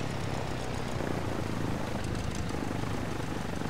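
A Cessna 172 taxiing in Flight Simulator X, near Shoreham airport, gives a steady, loud propeller-engine drone that holds level throughout, with no voices.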